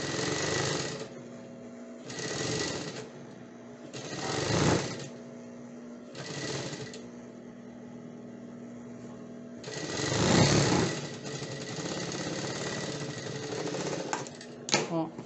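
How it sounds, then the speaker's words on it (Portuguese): An overlock sewing machine stitches fabric in several short whirring bursts and then one longer run, loud and close, with speech between the bursts. "Eu faço esse acabamento aqui na overlock."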